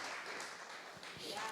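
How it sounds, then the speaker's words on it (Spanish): Church congregation at a worship service claps together as a dense, soft wash of applause, with a voice talking over it. "vamos a darle un aplauso al Padre, al Hijo y al Espíritu Santo de Dios"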